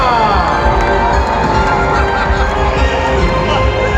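A crowd at a garments fair event claps loudly and cheers to welcome a couple on stage, a steady dense wall of applause with shouts mixed in that holds for the whole stretch.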